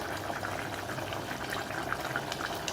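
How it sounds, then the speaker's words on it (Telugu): Bottle gourd tamarind curry simmers in a pot, giving a steady, even bubbling with a faint hiss throughout, with no talk over it. "ఇది ఒక ఐదు నిమిషాల పాటు ఉడికించుకుందామండి"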